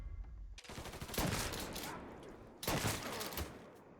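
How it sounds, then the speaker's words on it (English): Bursts of gunfire from the Mafia 3 video game, two loud volleys of rapid shots with reverberant tails and a quieter stretch between them. "Shoot him from the side!"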